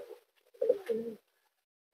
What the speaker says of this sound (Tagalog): Magandang ibon.